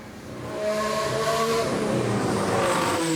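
Race car at the Goodwood Festival of Speed hillclimb locking up its tyres in a straight line, a loud steady engine roar with tyre noise sustained throughout.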